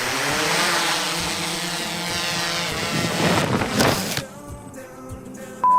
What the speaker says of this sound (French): Ça va être la première fois que je vais piloter un drone.